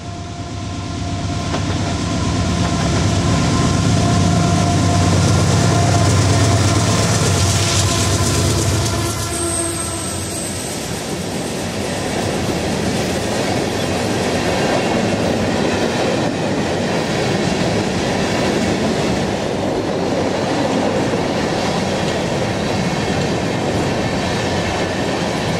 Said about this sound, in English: A hopper train soon follows, but does a lot better with two AC-44s hauling empties.